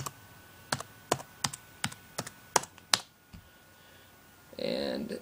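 A password tapped out on a computer keyboard, about nine crisp separate keystrokes at an uneven pace, followed by a short pause and a brief burst of other noise at the end.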